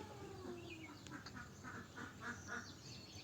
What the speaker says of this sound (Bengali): হাঁসগুলো অনেকক্ষণ থেকে বেরোবার জন্য ছটফট করছে